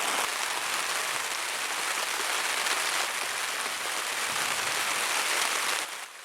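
Rain falls steadily on a shelter in the forest, a dense, even hiss of drops that stays loud and constant before easing slightly at the very end.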